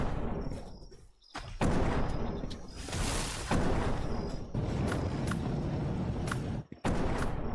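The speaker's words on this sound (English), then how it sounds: "They love throwing their grenades." Grenade explosions in the video game Palworld: a dense run of loud, booming blasts that follow one another almost without pause, with a couple of brief dips between bursts.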